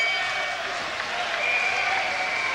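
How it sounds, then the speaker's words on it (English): Boxing crowd cheering and applauding in a steady, roaring wash of noise, with a commentator's voice audible over the top. "the crowd are getting excited"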